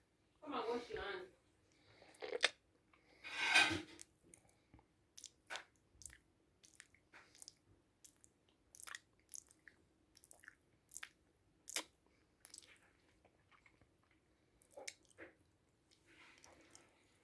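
Funny, exaggerated chewing and squishing noises, wet and crunchy, come in irregular bursts close to the mic, with a louder stretch at the start and short smacking clicks after it.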